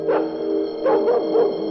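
A dog barks and howls in a few drawn-out, tonal calls, close and clear, with a steady hum beneath.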